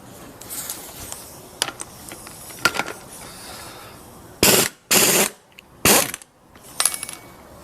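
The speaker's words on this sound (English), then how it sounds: "So now I'm going to take the nut off of the pulley." A nut being worked off a pulley with a hand tool, with quiet metallic scrapes and clicks early on, then three loud bursts of ratcheting or spinning close by, each lasting under a second.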